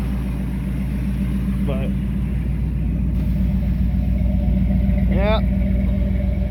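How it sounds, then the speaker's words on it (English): An old truck idles on a cold start to warm up, a steady low rumbling engine throb close by, with someone talking briefly over it. "I'm gonna let it sit here and warm up for a minute before I take her anywhere"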